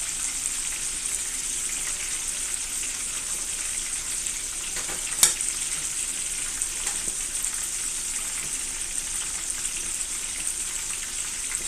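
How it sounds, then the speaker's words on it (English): Food shallow-frying in a pan rather than a deep fryer gives an even, fairly loud crackling hiss throughout, broken by a single sharp click midway as pieces are turned. "We turn them because this isn't a deep fryer, the temperature's not even, the bottom is going to be a little bit hotter."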